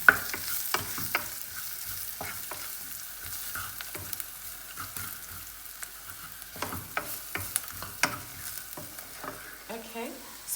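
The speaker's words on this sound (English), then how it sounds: "Looks like the onion is coming all right, so I'm going to put in the beef stock." Chopped onions cook in a pot for a morogo stew as beef stock goes in, with scattered clinks and scrapes of stirring over a soft, steady sizzle, no voices.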